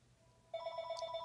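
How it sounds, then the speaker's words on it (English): A telephone rings in the background, a steady electronic warble that starts partway through and keeps going, fairly faint and heard alone behind quiet room tone. "sorry about that phone ringing in the back."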